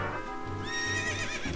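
A horse in The Legend of Zelda: Ocarina of Time gives a short, rising whinny over soft game background sound, a single clear neigh.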